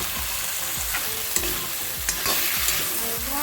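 Broad beans (urohi) tipped into a hot pan sizzle steadily while a utensil stirs them in rhythmic, scraping strokes, close and continuous with no voices.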